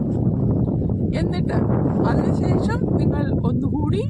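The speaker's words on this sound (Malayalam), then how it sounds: "സംസാരിക്കാൻ പോലും പറ്റില്ല കേട്ടോ കാറ്റടിച്ചിട്ടേ ഭയങ്കര കാറ്റ്" Strong wind buffets the microphone outdoors, a loud, low, continuous rumble that runs under a person talking throughout.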